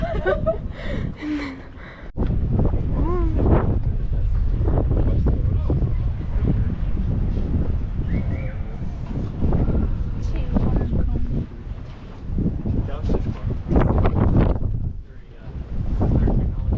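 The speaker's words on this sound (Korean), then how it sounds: "바람이 원래 이렇게 부는 거겠지?" Strong wind buffets the microphone at a hilltop viewpoint in Lisbon, Portugal, a continuous loud rumbling roar while people talk over it.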